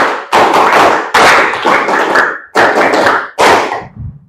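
A group performs a counted clapping drill, with five distinct loud bursts of many hands clapping together, separated by brief gaps, close and without speech.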